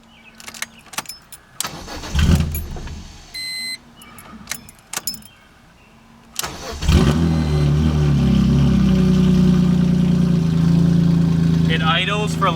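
BMW M3 GTR-styled car with a hard-starting fault: keys jangle and short bursts of cranking sound before the engine fires, revs up and settles into a loud, rough idle near the microphone.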